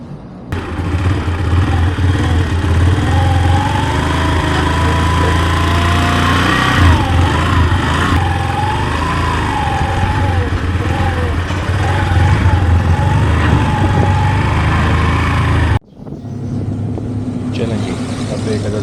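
A Yamaha YBR 125 motorcycle engine hums steadily while riding, loud and close throughout, then cuts sharply near the end before resuming at a lower level.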